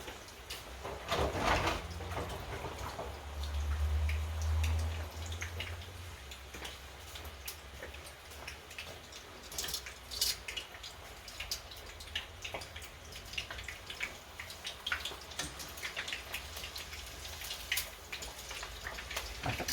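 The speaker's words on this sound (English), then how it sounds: "Just go and wash my hands." Tap water runs steadily from a kitchen faucet as hands are washed, a continuous spattering hiss at low, even loudness with scattered drip-like ticks, and no talking over it.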